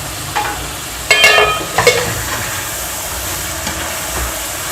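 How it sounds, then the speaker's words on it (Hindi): A spoon stirs fish pulao in a covered pot, giving a few scraping, clinking strokes over a soft background hiss of steam and cooking, with no one talking. "बड़े प्यार से चम्मच चलाना होता है"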